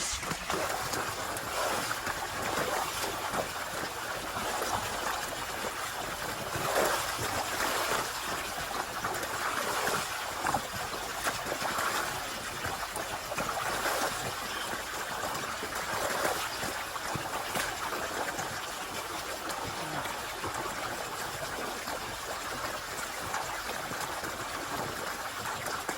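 Well water gushes steadily from a running motor pump into a village farm field, a continuous close rushing and splashing with no break in level.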